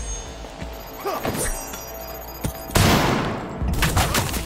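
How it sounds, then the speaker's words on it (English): Gunfire in Cyberpunk 2077 sounds as several sharp, close shotgun-like blasts and impacts amid game sound effects, with a heavy burst near the end. "A shotgun? Really a shotgun?"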